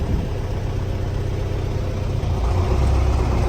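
A 2021 MTZ tractor engine runs while the tractor drives along, giving a steady, fairly quiet low drone that grows slightly louder and deeper toward the end.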